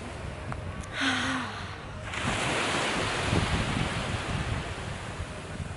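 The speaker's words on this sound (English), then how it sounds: "To hear the sound of the waves." Ocean waves washing onto a sandy beach at sunset, a steady broad rush of surf with wind buffeting the microphone, growing fuller after the first couple of seconds and continuing alone without talk.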